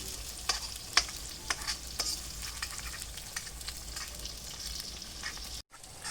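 Onions and potatoes frying in a pan over a wood fire outdoors, a continuous soft sizzle with occasional stirring clicks and taps, fairly quiet and close, briefly cutting out near the end.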